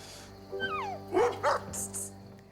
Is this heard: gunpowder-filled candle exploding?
no